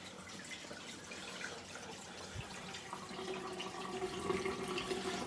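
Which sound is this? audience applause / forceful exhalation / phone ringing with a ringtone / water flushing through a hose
water flushing through a hose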